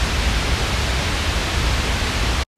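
Procedurally generated waterfall sound built in Wwise: a steady, loud, broadband rushing wash of noise, unbroken and alone, that stops abruptly at the end.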